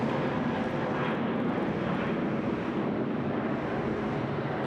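Jetstar airliner taking off from Sydney Airport on a flight to Perth, a steady broad roar of jet engines with wind noise, moderately distant and continuous.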